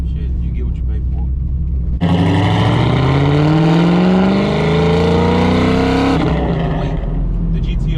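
A supercharged LSA-powered Pontiac GTO making over 700 horsepower revs hard, a loud, sustained, rising engine roar with supercharger whine lasting about four seconds before dropping back to a rumbling idle, and a voice briefly speaks.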